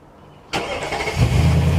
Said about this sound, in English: truck starts itself.